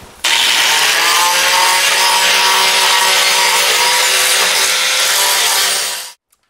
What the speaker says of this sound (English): I'm just using an angle grinder with a grinding wheel on it. I'm just to remove the paint, not very hard, just enough to remove the paint and primer.